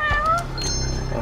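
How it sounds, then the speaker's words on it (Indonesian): A cat meows in the video game Judgement, one short clear call up close followed by a softer trailing mew over a low steady game background hum. "Ini kucing ya?"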